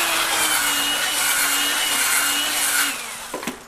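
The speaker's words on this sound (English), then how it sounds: "because I want the screws to be countersunk, I do this step" A steady whirring drill bit countersinking a screw hole in soft wood, one continuous grinding pass that tapers off, followed by a couple of light knocks, close and loud with no talking.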